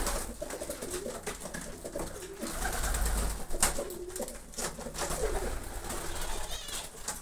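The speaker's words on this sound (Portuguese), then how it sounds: "Só pombo descendo, só pombo chegando" A flock of pigeons descends and arrives at dusk, producing continuous overlapping cooing with occasional wingbeats and scuffles nearby, a faint bit of background noise underneath.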